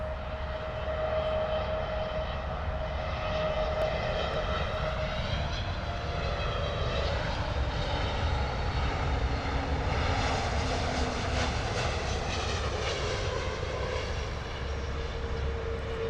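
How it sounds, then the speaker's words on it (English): An SAS airliner arriving from Oslo rumbles steadily on its approach to London Heathrow, a loud, sustained jet roar with a shifting whine that swells and slowly pans across the whole stretch, with no talking over it. "SAS coming in from Oslo, looking quite unsteady as well"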